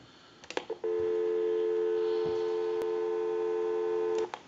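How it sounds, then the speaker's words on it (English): A steady, loud dial tone sounds on a wall telephone line of a wooden country-line wall phone, preceded by a few clicks and ending abruptly after about three seconds, heard alone. "we'll go ahead and give you some dial tone"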